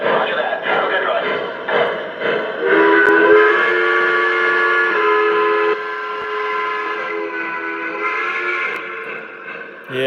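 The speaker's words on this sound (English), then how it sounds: "this engine has an awesome whistle." A Lionel Pennsylvania model steam engine sounds a long, sustained whistle with steady layered tones that lasts several seconds, loud and close, with a voice talking underneath.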